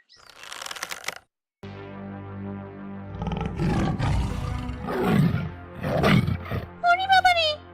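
A cartoon tiger in a fairy tale lets out deep, rumbling roars and growls layered with a music score, while animated characters speak excitedly over much of it.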